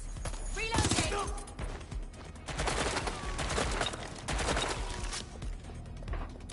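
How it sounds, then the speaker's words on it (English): Gunfire in Watch Dogs: Legion, a rattling fusillade of rapid shots in bursts with pauses between, loud and close, mixed with game sounds and voices. "Shots fired!"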